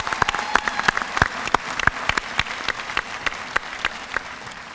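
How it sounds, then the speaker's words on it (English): Graduation ceremony audience applauding, a dense wash of clapping with distinct sharp individual claps standing out near and loud, some whistle-like tones mixed in. "a big round of applause"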